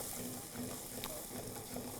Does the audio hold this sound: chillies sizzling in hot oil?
yes